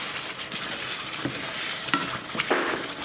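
Balti curry frying in a pan while being stirred, a continuous sizzle broken by a few sharp scrapes and knocks of the spoon, no talking.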